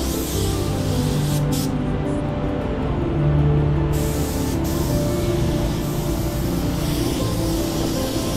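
A spray gun lays pearl white paint onto a car panel in a body shop, a loud, steady hiss with a couple of brief pauses between passes, heard close and alone.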